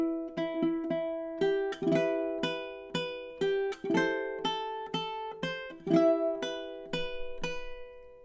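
A ukulele picks a stanza of the sea shanty The Wellerman, a steady string of plucked notes with some quick alternate-picked repeats, played alone and fairly soft.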